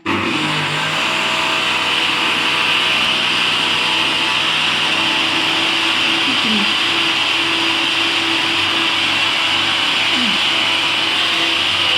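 Mixer grinder grinding sugar in a home kitchen, with a loud, constant high-pitched whir that runs unbroken for the whole stretch, with a faint voice barely audible underneath.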